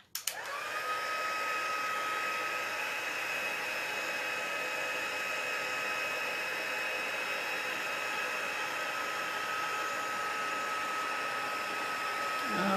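A heat tool blows steadily while heat setting faux patina paint, a constant airy rush with a thin high whine that holds evenly for over twelve seconds close by.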